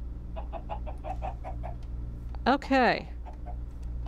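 A chicken in the video game Minecraft gives a short run of soft clucks, then a louder squawking burst. A voice speaks briefly over a low background hum.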